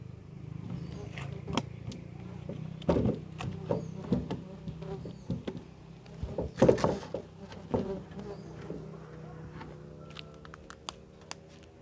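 A colony of Biroi and laeviceps stingless bees gives off a steady low buzzing hum, with scattered sharp knocks and taps close by and the faint sound of someone nearby.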